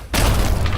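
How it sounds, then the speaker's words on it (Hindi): A single loud explosive boom strikes sharply after a brief quiet moment, then rumbles on with heavy low-end weight and a rough, crackling tail. "तभी एक विस्फोटक आवाज गूंज उठी।"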